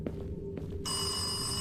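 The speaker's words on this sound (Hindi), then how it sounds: "यहाँ पर टेलीफोन कैसे चल रहा है?" A telephone rings inside a dark haunted mansion in a horror video game. A bright, steady electronic ring starts partway through the clip and holds, following a faint low background drone.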